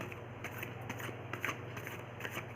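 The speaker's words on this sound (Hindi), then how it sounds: "मैं कार्ड को अच्छे से शफल कर लेती हूँ" A deck of tarot cards being shuffled for a love reading, with soft, quick, repeated riffling and flapping bursts at close range, fairly quiet and unbroken by any speech.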